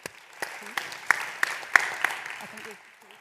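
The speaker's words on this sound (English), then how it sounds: "another round of applause for them" Applause from an audience, a steady patter of clapping with a few sharper claps, while a voice talks over it.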